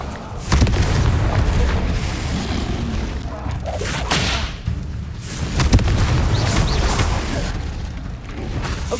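Repeated Confringo fire-spell blasts in Hogwarts Legacy, several loud nearby booms in a row with rumbling fiery bursts between them.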